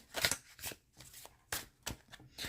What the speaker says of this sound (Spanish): Salieron estas dos cartas disparadas aquí